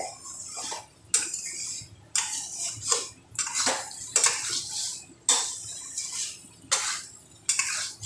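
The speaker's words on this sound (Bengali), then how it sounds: "এইভাবে মশলাটাকে কষিয়ে নিতে হবে ভালো করে।" A spatula scrapes and stirs spice paste in a pan for pumpkin cooked with white sesame and poppy seed paste, making about eight close, sharp strokes in a steady rhythm with brief pauses and no talking.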